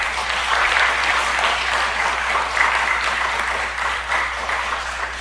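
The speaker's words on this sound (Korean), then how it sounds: "우리 크게 박수해 주세요." Church congregation at a Wednesday missionary-sending service applauding loudly and steadily, a dense even wash of clapping that carries through the whole stretch without any talk over it.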